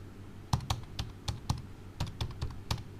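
Keys clack on a computer keyboard in a quick, uneven run of about a dozen close, crisp taps with short gaps between them, alone and without talk.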